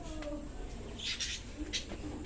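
Pet pigeons and doves kept in cages call faintly in a few short bursts against a steady background hum.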